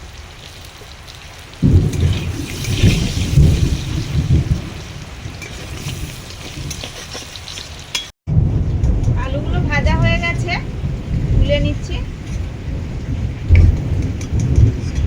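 Heavy rain pours steadily while deep thunder rumbles loudly, swelling after a quieter start and continuing past a short break; a person speaks over the storm.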